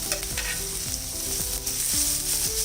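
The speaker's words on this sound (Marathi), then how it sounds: "कांदा जर मऊ होईपर्यंत परतायचा आहे व्यवस्थित" Finely chopped onion sautés in a pan for a radish-leaf bhaji, a continuous bright sizzle with repeated scraping stirs at a steady rhythm, close and fairly loud.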